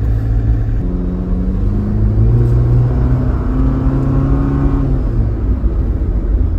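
A Jeep Wrangler Sahara's engine hums loud and steady on Maui's Road to Hana as it is shifted back into drive, the pitch climbing partway through, then settling.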